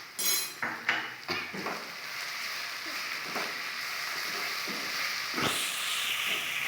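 Leftover rice with chopped carrot and salt frying in a pan, a steady close hiss and sizzle with a few metal spatula clanks against the pan at the start.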